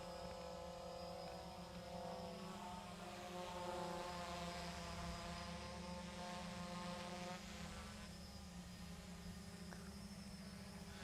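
iVue RoboControl drone holding a stable hover, a steady close propeller whine and hum with layered tonal buzz, continuous and even for the whole stretch, no voices.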